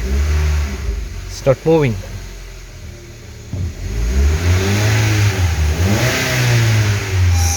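A 2016 Honda HR-V with a stuck pressure control solenoid fault, its engine humming loudly with rising and falling revs while in gear, as someone talks over it.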